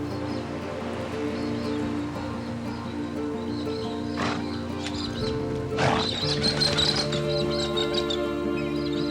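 Wild brumby horses in the Australian desert whinny and stir at moderate distance, with a couple of louder neighs rising over rustling and faint birdsong.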